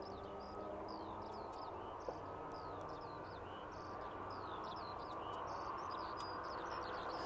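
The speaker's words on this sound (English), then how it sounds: "The birds sound happy enough." Many birds chirp and trill in repeated short phrases over a steady low background hum, moderately distant.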